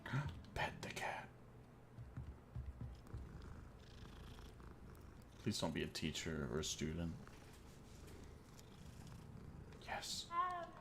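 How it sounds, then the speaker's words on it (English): A cat in Hogwarts Legacy purrs softly and steadily while being petted, with quiet game sounds and a person talking over it in bursts. "Pet the cat."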